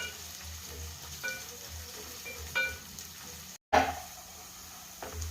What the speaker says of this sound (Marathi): चिरलेला कांदा, मिरची या अगोदर आपण परतून घेऊया